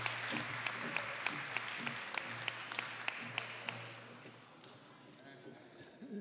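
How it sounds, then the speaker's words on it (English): An audience at a mathematics awards ceremony applauds a Minister of State after a keynote address, the clapping soft and somewhat distant with a few sharper claps, tapering off toward the end. "A resounding applause for the Minister of State for giving the keynote address"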